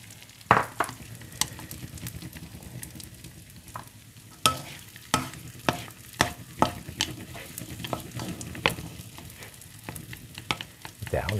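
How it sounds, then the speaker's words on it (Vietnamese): Egg fried rice is stir-fried in a pan, with a steady soft sizzle under repeated sharp scrapes and clanks of the spatula against the pan at an irregular rhythm, heard close with no talking. "cơm chiên trứng"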